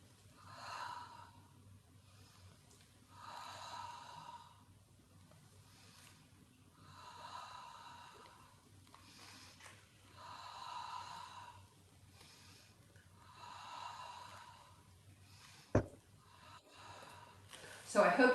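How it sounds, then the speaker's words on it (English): Slow, controlled Pilates breathing during a mat exercise, with about six evenly spaced long breaths rising and falling, close and soft over a low room hum, followed by a sharp knock near the end. "So I hope you could hear my breathing."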